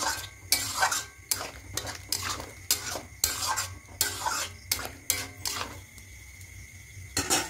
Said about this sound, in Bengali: আর 1 চামচ মতো ঘি দিয়ে দেবো, 1/2 চামচ মতো। খুব ভালো করে মিশিয়ে নেব।